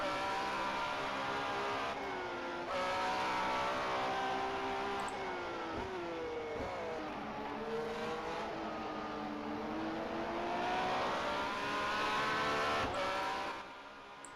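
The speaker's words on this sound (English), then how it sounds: "As we hear the beautiful hum of this Ferrari engine." Ferrari engine of a PCR race car in a Formula Dream racing game at the German Grand Prix, a continuous high-pitched revving whine that rises and falls through gear changes, loud and steady with no talking.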